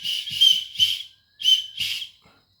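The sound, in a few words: survival whistle from a camping buckle being blown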